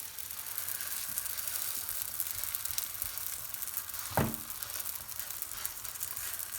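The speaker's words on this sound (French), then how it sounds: "je vais la mettre à cuire sur la poêle qui est bien chaude" Msemen flatbread sizzles in a hot frying pan over medium heat, a steady close crackle of frying with a brief louder scrape or clunk partway through, and no one talking.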